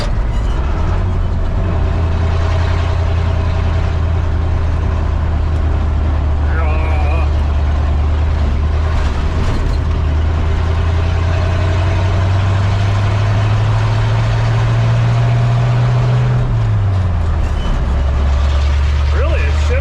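A 1960 Chevy K10 factory 4x4 truck's engine pulls uphill on a rough washboard road, a loud, deep, continuous drone that rises slightly in pitch before dropping near the end, with occasional faint voices over the engine.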